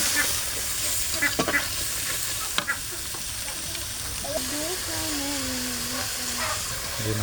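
Spices of chili paste, salt, turmeric and coriander powder sautéing in oil for a potato and egg curry, an even hissing sizzle with sharp stirring clacks early on and a voice speaking later.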